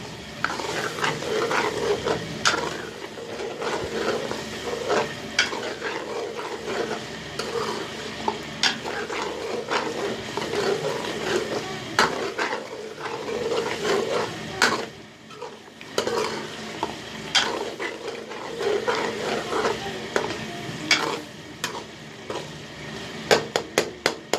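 Chicken karahi with tomatoes fries in a pan, Karachi street-food style. A steady sizzle runs throughout, with a spoon scraping and clinking against the metal in repeated stirring strokes.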